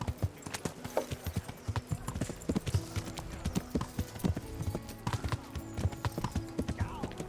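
Horse hooves clip-clopping in the Kingdom Come: Deliverance video game, a steady close rhythm of hard hoof strikes on a town street, with faint background chatter and occasional other game sounds.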